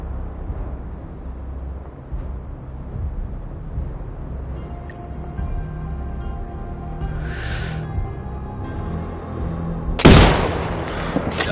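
A sharp sniper rifle shot cracks out loudly near the end in the video game Sniper Ghost Warrior 2, after a stretch of low ambient rumble and a few faint game tones.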